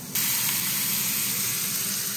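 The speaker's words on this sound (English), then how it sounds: "I'm gonna get the other steak in the pan" Steak sizzling in olive oil in a hot pan, a steady loud hiss and crackle that starts abruptly and holds evenly, close and without talk.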